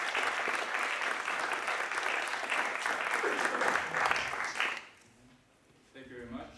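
A crowd applauds to welcome a guest lecturer at a talk about a treaty with Ukraine, with dense, steady clapping for nearly five seconds before it drops away, then a voice starts speaking.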